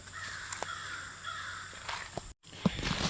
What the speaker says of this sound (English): So they call out and let all their crow buddies know.